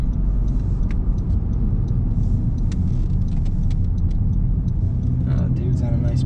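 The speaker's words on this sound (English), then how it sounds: "even if you drive normally, you can pick up speed fairly quick" A 2019 Honda Civic with a CVT drives on the road, its steady loud engine and tyre rumble filling the cabin with faint rattles on top, while a person talks over it.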